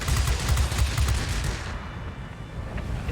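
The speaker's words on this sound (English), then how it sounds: "And my guns actually hit right here." Rapid, loud machine-gun fire from a Hawker Tempest multirole fighter's guns in the World of Warplanes game, with dense bursts for the first half that fade into a rumbling, quieter tail.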